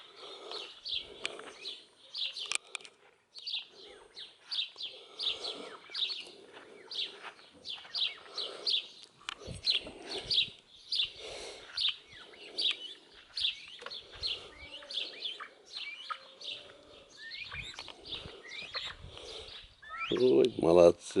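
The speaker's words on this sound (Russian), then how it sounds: "Такая тишина. Одни птички поют." Small birds chirp and sing steadily outdoors in a quiet rural yard, many overlapping tweets and short trills at moderate distance, with a brief louder disturbance near the end.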